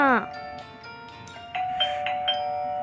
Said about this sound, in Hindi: इतनी घंटी क्यों बजा रहे थे